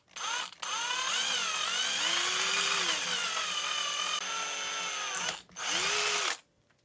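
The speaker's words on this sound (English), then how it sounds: "So I'll drill a BB size hole." A power drill bores a BB-size hole in a hollow, roto-molded DIY fishing lure. A brief whir comes first, then one long, steady, loud high-pitched drilling run, and finally a short burst, with no talking.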